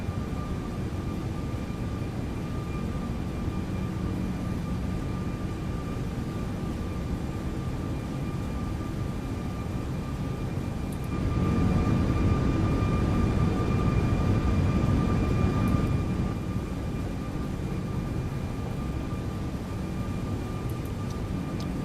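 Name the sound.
Airbus A340-600 engines during climb, X-Plane video game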